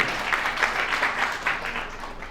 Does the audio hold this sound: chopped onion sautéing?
no